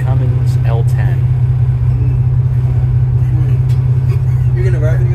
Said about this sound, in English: Sounds of the Cummins L10.